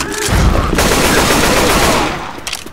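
Sustained rifle gunfire from Left 4 Dead 2, a dense, loud burst of rapid shots running almost three seconds before tapering off into a few scattered reports.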